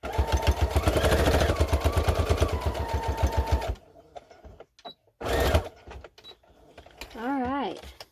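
A sewing machine backstitches fabric in a fast, loud, rhythmic mechanical chatter for a few seconds, then stops abruptly. Short bursts of noise and a person's voice follow.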